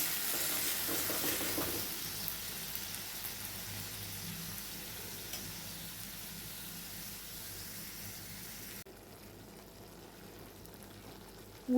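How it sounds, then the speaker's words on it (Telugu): Tomatoes for a tomato pickle bubble and sizzle softly in a pan, a low, steady frying hiss running throughout with a faint clatter near the end and no talking. "ఉడుకుతున్నటువంటి టమాటాలు"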